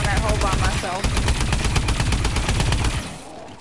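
Rapid automatic gunfire in a zombie shooter video game, a dense, loud continuous stream of shots for about three seconds before cutting off into fading background noise.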